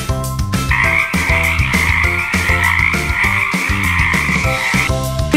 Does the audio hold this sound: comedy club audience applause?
no